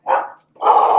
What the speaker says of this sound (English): That's the neighbor's dog.